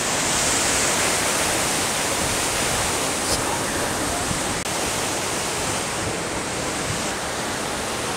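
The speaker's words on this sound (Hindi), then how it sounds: "क्योंकि यह मेरे पीछे ही है वाटरफॉल" India's highest waterfall, at Vajrai, pours right behind the listener with a loud, constant broadband rush of falling water that fills the whole stretch, and faint voices are buried beneath it.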